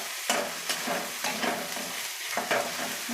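Washed, drained mushrooms frying in a pan with chopped green chilli, a bright steady sizzle with repeated rhythmic scrapes of a spatula stirring them, close and clear.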